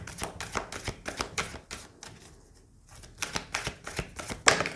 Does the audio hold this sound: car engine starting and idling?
no